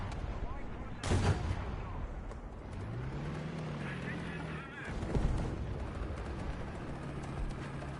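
Anti-aircraft gun firing in the War Thunder combat game, sharp booming shots with one heavy blast early and another midway, over a low rumbling battle background and a droning engine.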